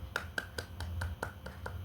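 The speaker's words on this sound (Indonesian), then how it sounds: "Beri tepuk tangan dulu untuk Tasya." Classroom students clap for a classmate in a steady, evenly spaced run of sharp claps, faint and with no talking.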